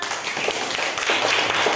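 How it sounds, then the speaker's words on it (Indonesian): Students in a classroom clap for a group that has just presented a project, a continuous, moderately loud patter of many hands with a few sharper individual claps standing out. "Yuk beri tepuk tangan"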